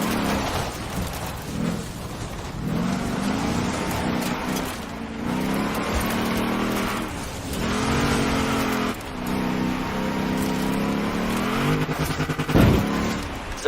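Car engine in the Forza Horizon 4 racing game, a steady close drone with rising and falling revs as gears shift, continuous throughout with a sharp knock near the end, while a navigation voice gives directions.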